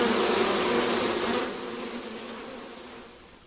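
Honey bees buzz loudly and continuously around a hive, a dense droning hum that gradually fades over a few seconds.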